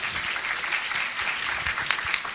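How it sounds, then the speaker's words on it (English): An audience at a conference breakout session gives the panelists a round of applause, dense even clapping heard from a moderate distance, continuous for a couple of seconds with no talking. "Let's give them a round of applause."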